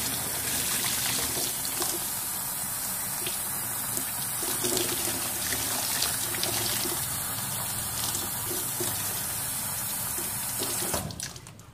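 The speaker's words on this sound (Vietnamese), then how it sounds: "Rồi bây giờ các bạn xả nước cho mình nhé." A tap runs hard and steadily as pork intestines are rinsed under it, a loud continuous gush of water that goes on unbroken for about eleven seconds before shifting abruptly at the end.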